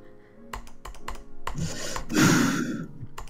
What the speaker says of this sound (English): You can hear his mouse clicking.